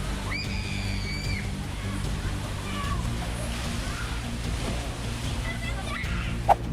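Rough North Sea waves slosh and crash against a ship in a steady, dense wash of water noise. Faint voices and a brief sharp knock are mixed in.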